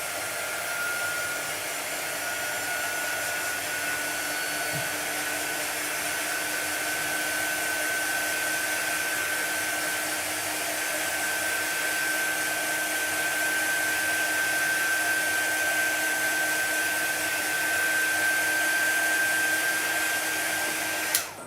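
A handheld hair dryer blows over a chalk paste craft project, drying it as one loud, unbroken whoosh of motor and airflow for over twenty seconds, with no voices.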